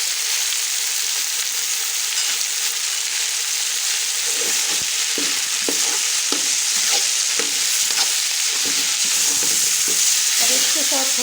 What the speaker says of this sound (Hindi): थोड़ी देर मसालों के साथ मैं इनकी भुनाई करूँगी ताकि इसमें टेस्ट चला जाए सारे मसालों का।